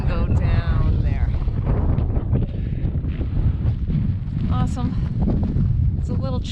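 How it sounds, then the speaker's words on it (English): Strong wind buffets the microphone on a chilly mountain trail with lingering snow, a constant loud roar throughout, while a person talks over it. "It's a little chilly in the wind."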